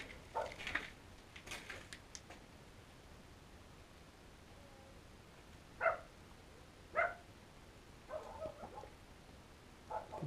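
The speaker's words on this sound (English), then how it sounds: "Hear someone outside with a dog." A dog barks a few times outside a boarded-up World War II bunker in Lerwick, Shetland; the barks are faint, distant and spaced apart over a quiet, hissy background.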